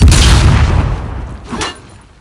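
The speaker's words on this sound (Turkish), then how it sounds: "Patladı yanımızda bir şey ama." A loud, booming explosion from a landmine in the video game The Last of Us Part II, with a heavy low-end blast that slowly decays, followed by a brief second burst near the end.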